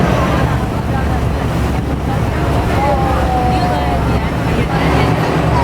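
A big river-crossing boat, with a steady engine rumble and water and wind noise, is heard up close and continuously, with a faint brief whistle-like tone partway through and no clear talking.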